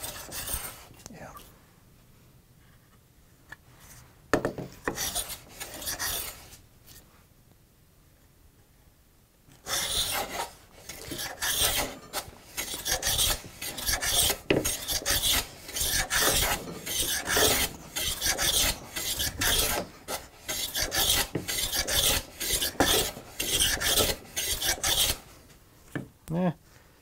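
Hand plane taking wispy end grain shavings in a shop, an out-of-the-box plane; a quiet stretch and brief scrapes, then a long run of repeated rasping strokes, close and fairly loud, with no talk.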